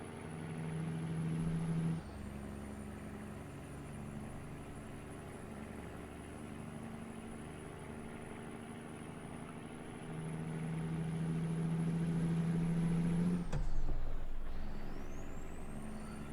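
A heavy truck rumbles close behind in American Truck Simulator, a steady low engine drone with tonal hums and a high whine, swelling louder toward the end with a brief air-brake hiss.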